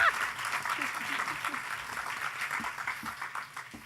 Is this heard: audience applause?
yes